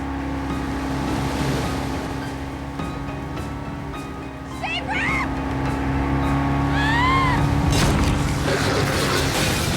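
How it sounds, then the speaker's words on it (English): A speedboat races across open water at night, a steady engine drone mixed with wave wash and wind buffeting, building toward the end, with dramatic background tones layered over it. "Then, 100 yards away, a speedboat raced out of the darkness."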